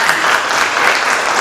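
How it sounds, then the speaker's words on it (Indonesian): Dense, steady clapping from a seventh-grade class of students in a classroom, a loud close wash of many hands striking at once with no pauses across the short burst. "Ya, bagus, tepuk tangan."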